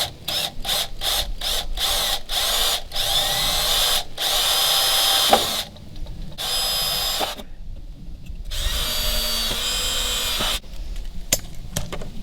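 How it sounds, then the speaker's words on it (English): An electric drill with a small bit whirs in a series of short bursts drilling a pilot hole, then runs in longer stretches with pauses between, loud and close. "we'll use a smaller drill bit for a pilot hole"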